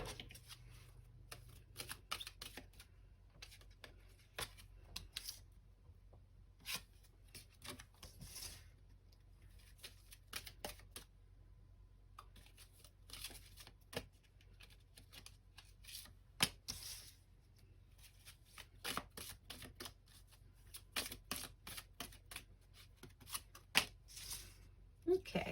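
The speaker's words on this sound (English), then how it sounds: "I'm going to pull some cards from the Ostara Tarot deck" A tarot deck, the Ostara Tarot, is shuffled by hand over and over, with dense crisp riffling and slapping card sounds in uneven bursts, close and fairly quiet, and a voice speaks at times.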